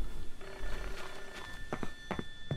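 An old telephone bell rings in the Japanese horror game Hollow Cocoon, a steady metallic trill under faint footsteps, with a few soft taps near the end.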